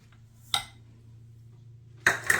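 A spoon scraping and clinking against a bowl while cream cheese and sugar are mixed by hand, two sharp clanks spaced apart over a low steady hum, close and fairly quiet.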